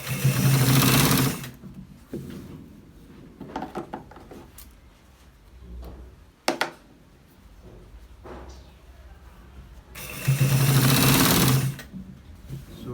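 Two short runs of a sewing machine stitching a shirt collar open and close the stretch, a loud, fast whirring close by, with quieter handling noises and small clicks in between.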